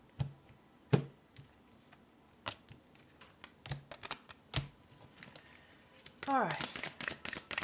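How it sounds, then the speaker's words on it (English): A deck of tarot cards is cut and shuffled, with sharp card taps and slaps at intervals followed by a riffling flutter near the end, close up, with a few brief spoken words. "Let me cut this deck properly."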